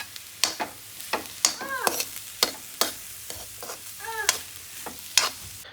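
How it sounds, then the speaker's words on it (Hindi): Carrots roasting in ghee for gajar halwa, stirred in a pan: repeated sharp scraping strokes of a spoon over a soft continuous sizzle, close and fairly loud, with no voices. "तो बस अभी मैं गाजर भून रही हूँ घी में"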